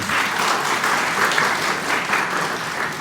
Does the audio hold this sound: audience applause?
yes